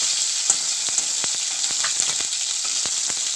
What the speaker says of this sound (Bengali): আমি মাছটাকে একটু উল্টে দিলাম সাবধানে, কেননা এই মাছ কিন্তু খুব যেহেতু তেল চিটকায়